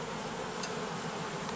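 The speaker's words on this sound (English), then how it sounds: "it's a pretty good amount of bees though. It's a pretty decent swarm." Dense, continuous buzzing of many bees close by, a steady insect hum without pauses or voices.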